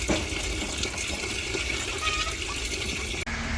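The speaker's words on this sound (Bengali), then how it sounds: "শাক আর সবজিগুলো ধুয়ে নিতেছি।" Leafy greens and vegetables being washed in water, a steady close splashing and gushing of water that continues throughout and cuts briefly near the end.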